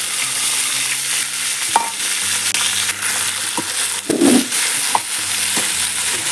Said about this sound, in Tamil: வெங்காயம் தக்காளி நல்லா வதக்கிக்கிறோம்